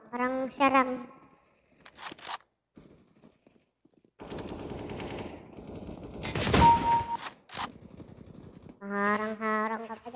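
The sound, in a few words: gunfire in video game CS:GO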